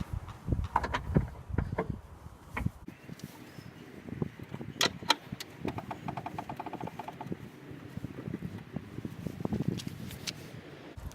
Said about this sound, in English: remove the 4 nuts along the back of the bumper